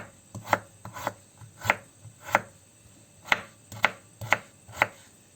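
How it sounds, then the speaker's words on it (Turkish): A knife chops potatoes on a board, sharp close thuds in irregular pairs and single strokes about eight or nine times, each clearly separated by brief quiet. "Şimdi patateslerimi de doğruyorum."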